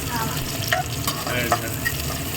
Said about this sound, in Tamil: இனி இதை வதங்கணும்